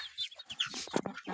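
Chickens and young chicks on a small poultry farm cluck and cheep in a quick, uneven run of short, close calls, with no voices.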